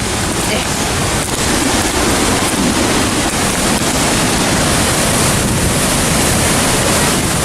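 Loud, constant rushing water of a waterfall at High and Low Force near Middleton-in-Teesdale roars without pause, a thick steady noise with some wind buffeting, heard from a distance.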